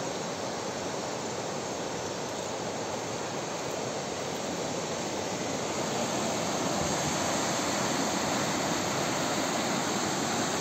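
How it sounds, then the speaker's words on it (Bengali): Strong current of the Rishikhola river in East Sikkim, beside a broken off-road track: a loud, steady broadband rush of water that holds constant throughout, with no voices. "এবার স্রোতের আওয়াজটা বুঝতে পারছেন কত জোরে স্রোত বইছে"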